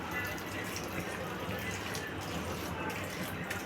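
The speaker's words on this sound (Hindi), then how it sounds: "इसमें थोड़ा सा ठंडा पानी डालेंगे" Cold water is poured over cooked rice sitting in a strainer, giving a soft, steady splashing hiss at moderate distance that lasts throughout.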